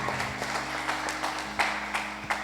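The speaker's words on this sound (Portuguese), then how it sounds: "Você pode dar um aplauso bem forte a Ele?" Church congregation applause, a fairly soft and sparse patter of clapping with several sharper claps, heard at some distance in a reverberant hall.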